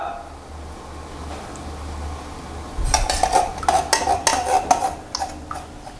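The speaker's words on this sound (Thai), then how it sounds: "แล้วก็ใช้ตะก้อมือคนให้ส่วนผสมละลาย" A hand whisk stirs green tea with sweetened condensed milk in a large batch, starting after a quiet stretch with rapid metallic clinks and scrapes against the container, close and fairly loud.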